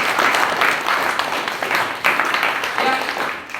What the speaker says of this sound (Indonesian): berikan tepuk tangan buat saya